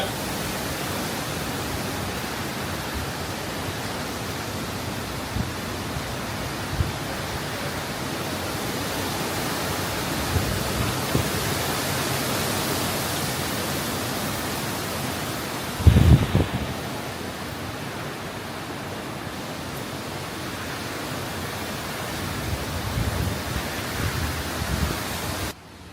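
Cyclone wind and rain roar outside a house, a steady loud broadband rush that swells slightly, with a brief thump midway and no voices.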